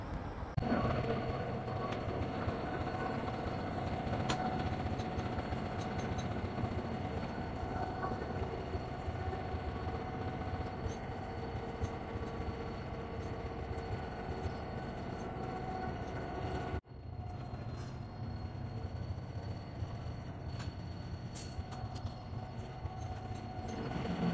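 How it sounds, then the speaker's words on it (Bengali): The Brahmaputra Express pulls into a station in Bangladesh, a steady loud rumble of rolling rail cars and wheels that continues throughout, with a brief dip partway before the clatter resumes, no voices. "আমাদের ব্রহ্মপুত্র এক্সপ্রেস ট্রেনখানা মূলত চলে আসছে"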